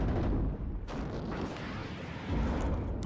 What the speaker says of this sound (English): there's already some infantry squad firing at me